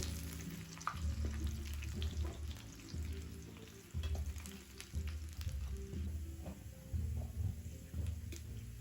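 Ginger, garlic and onion fry in plenty of hot oil for a fish pickle, giving a close, steady sizzle broken by repeated stirring scrapes and clatters with no talk.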